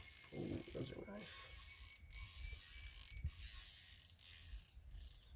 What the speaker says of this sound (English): oh, these are locking turrets. Actually, I did not know that these were locking turrets